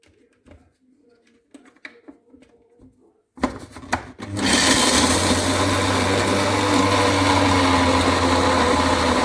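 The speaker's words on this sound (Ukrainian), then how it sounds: "горіхи потрібно обсмажити і перекрутити в блендері, що я зараз і роблю" A blender starts up after some quiet clicks and handling, then runs loud and steady grinding roasted walnuts, a dense grinding roar holding to the end.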